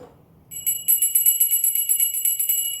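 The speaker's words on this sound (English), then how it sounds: "The bell rings." A small bell rings in a quick run of bright, repeated metallic strikes, close and clear, following a brief low murmur at the start.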